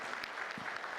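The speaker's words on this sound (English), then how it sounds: "Can we have literally like a huge and energetic round of applause?" Audience at a food product testing panel at an India food summit clapping steadily in a short burst of applause, with no voice over it.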